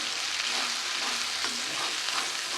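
Ground green pea paste for kochuri filling fries in hot oil, a continuous close sizzle with soft stirring scrapes mixed in.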